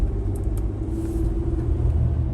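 A Toyota 4Runner, third generation with a 5VZ-FE V6, climbing a mountain highway above Saratoga with overdrive off, giving a steady low engine drone and road rumble from inside the cabin, continuous and fairly loud.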